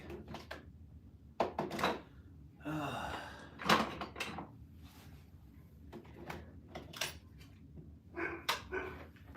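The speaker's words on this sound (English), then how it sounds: "What are you guys barking at over there?" Several sharp dog barks burst out in scattered clusters, some close and loud, others fainter, with household clatter and rustling between them.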